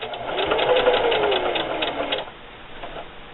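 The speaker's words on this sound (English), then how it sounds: "I'm going to sew right up to that line" A sewing machine stitches the casing of a fabric holiday gift bag in one close, steady run of about two seconds, then stops and leaves quiet handling noise.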